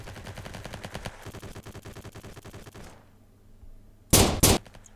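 Rapid automatic gunfire from the mobile shooter Block Strike, played in team deathmatch on Android: dense bursts of shots for about three seconds, a quieter stretch, then two loud, sharp blasts close up near the end.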